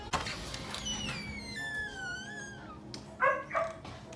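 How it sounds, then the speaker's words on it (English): A dog near the house whines with a long, sliding, high-pitched whimper, then gives a couple of short, sharp yips; the sound is fairly faint and there is no talking. "And he's barking."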